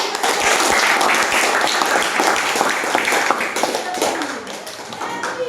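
A school class claps hands in appreciation of student groups, a dense, fairly loud burst of clapping with sharp individual taps, tapering slightly at the end, with voices faintly mixed in.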